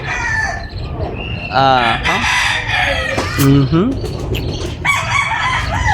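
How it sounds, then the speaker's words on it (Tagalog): Chickens cluck and squawk close by, with a rooster's rising crow in the middle, while a person murmurs briefly over the birds. "Maririnig nyo yan, tilakap ng manok."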